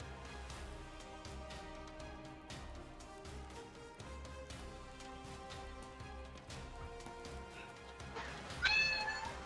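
A cat meows over a background of music with clear tonal lines and percussive hits, ending in a louder, higher cry; a faint voice also speaks.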